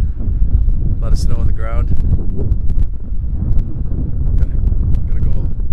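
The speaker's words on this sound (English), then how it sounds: "cold's really biting today. Kind of windy." Gusty, cold winter wind buffets the microphone with a constant low rumble, while a person speaks briefly over it.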